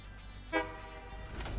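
Train horn honking in the Satisfactory video game: one short honk with a harmonic stack rises over a steady low background rumble, then fades into low murmuring noise.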